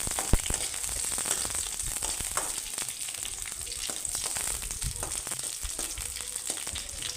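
Chillies fry in oil in a pan for peanut chutney, making a steady close sizzle dotted with sharp pops and crackles, with no talking.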